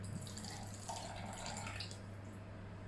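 Water pours steadily from a container into a bowl of carrot-top cake batter, a continuous close splashing trickle lasting a few seconds with no talk.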